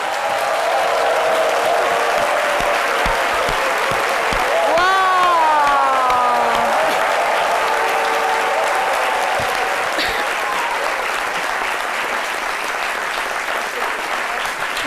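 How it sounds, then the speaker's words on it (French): Theatre audience applauding a duo after an Ivorian stage performance, a dense sustained wash of clapping with some cheering and a few rising whistle-like tones, while a voice speaks over the crowd. "Je pense que ces applaudissements ne sont pas suffisants pour ce qu'on vient d'entendre et de voir"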